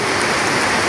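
Heavy rain falling outside, a dense, loud, continuous patter with no breaks.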